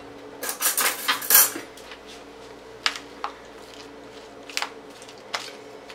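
Coleslaw tossed with dressing in a bowl, heard as a flurry of clinking utensil scrapes against the dish followed by a few scattered, lighter taps and stirs.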